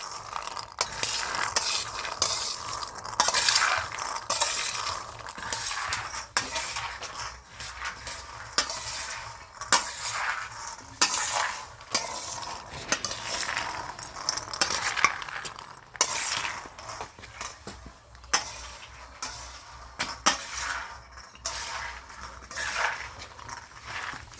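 Green peas mixed with food colour are stirred in a pan, giving a continuous close scraping and rattling stir with light sizzle throughout, no talking.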